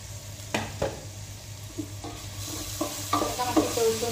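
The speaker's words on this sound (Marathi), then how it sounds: "आता मातशें तळसून घेवया" Finely chopped tomatoes are fried with browned onions for dal tadka, giving a soft, steady sizzle under a low hum, broken by several clear scraping stirs of a spoon in the pan.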